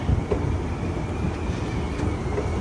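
Low, steady rumbling of a train moving through Birmingham International railway station, with dull mechanical thuds and a broad ambient wash, no one speaking.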